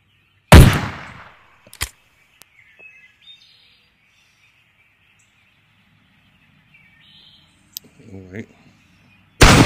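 Gunfire in a hunting simulator video game: one loud shot cracks out, followed by a sharper second report and a few faint clicks, with quiet stretches, a brief bird-like chirp, and another loud blast right at the end.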